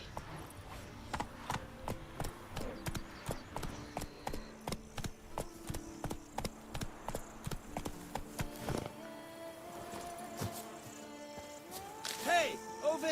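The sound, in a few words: horse Roach galloping, from video game The Witcher Wild Hunt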